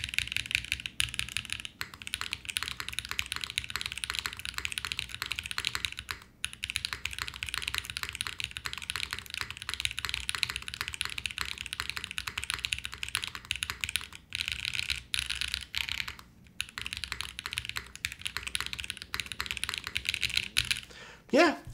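Steady, continuous typing on a KBDFan KBD8X keyboard fitted with one layer of foam and an aluminum gasket mount, dense clacking keystrokes close up with a few brief pauses.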